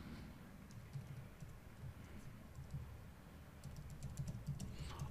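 Quiet keystrokes on a computer keyboard, a soft irregular patter of taps throughout, with denser clicking toward the end.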